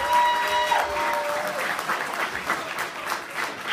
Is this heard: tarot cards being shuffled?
no